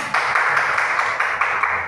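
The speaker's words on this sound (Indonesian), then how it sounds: "Tepuk tangan buat Raihan." Classmates clap for a student during a peer-teaching lesson, steady rhythmic clapping in even bursts, fairly close and moderately loud.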